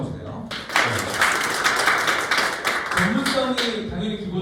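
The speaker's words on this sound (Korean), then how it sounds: "박수 한번 주세요." An audience applauds at a training lecture, a steady wash of many hands clapping for several seconds, with a voice speaking faintly underneath near the end.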